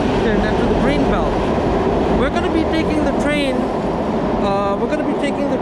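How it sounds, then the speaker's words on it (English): A Washington DC metro subway train rumbles steadily close by at Gallery Place–Chinatown station, with wheel squeals and high screeches rising over the noise while a voice talks over it. "This is the Washington DC metro."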